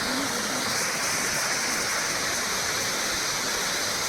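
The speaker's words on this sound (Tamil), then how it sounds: "ஒரு ஐம்பது அறுபது அடி உயரத்தில் இருந்து தண்ணி வந்து விழுந்துட்டுருக்கு" Beema Falls pours from fifty to sixty feet high in a steady, dense roar of falling water, loud and unbroken with no voices over it.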